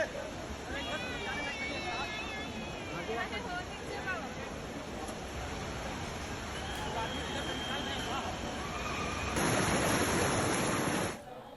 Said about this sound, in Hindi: एकदम झरना एकदम पूरा गिर रहा है पानी उसके साथ